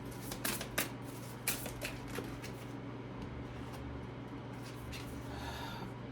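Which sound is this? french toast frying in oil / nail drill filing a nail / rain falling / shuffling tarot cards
shuffling tarot cards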